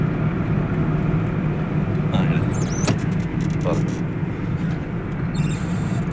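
A car moving steadily in fourth gear during a road driving test lesson, its engine and road noise forming a continuous loud, even rumble throughout, with a few brief higher whines and clicks on top.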